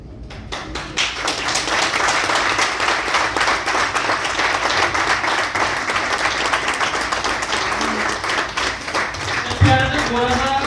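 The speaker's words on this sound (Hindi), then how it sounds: "आपकी तालियों की गड़गड़ाहट में तो कंजूसी नहीं होनी चाहिए" An indoor audience at a hotel training event breaks into sustained, dense applause, many hands clapping steadily for about ten seconds before tapering off, with a voice briefly emerging near the end.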